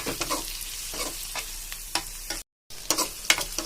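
Onions and green chillies sauté in a pan for a fish curry, with a steady sizzle and repeated scraping stirs, broken by a brief moment of silence partway through.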